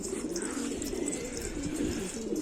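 Soft, low pigeon cooing repeats steadily at close range over a continuous background murmur, with no talking.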